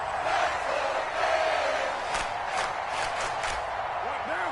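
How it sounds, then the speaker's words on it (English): Stadium crowd noise from Madden 22 football fills the scene as a steady, dense roar with a few brief whistle-like tones rising near the end, held at an even loudness throughout. "Here's where this crowd can really help make things difficult."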